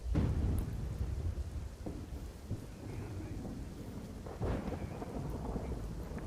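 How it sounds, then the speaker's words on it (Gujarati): Heavy monsoon thunderstorm over flooded streets in Vadodara, with rolling rumbles of thunder over steady, dense rainfall that stays loud and continuous throughout, with no voices. "સંધ્યા વડોદરામાં અત્યારે કેવા પ્રકારનું વરસાદી વાતાવરણ"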